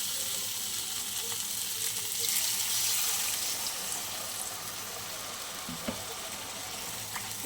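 Water poured into a pan of sizzling taro (kochu) curry, giving a steady broadband hiss and bubbling sizzle that runs throughout at an even, fairly loud level, with a faint clink near the end.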